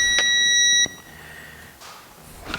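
A digital torque wrench beeps during a belt drive install on a Timbersled snow bike kit: a sharp electronic tone sounds briefly, then a sustained beep holds for nearly a second before cutting off, followed by faint handling noise.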